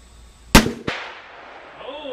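A single loud, close Ruger Redhawk .44 Magnum revolver gunshot, a sharp blast followed a moment later by a fainter crack and a fading outdoor echo.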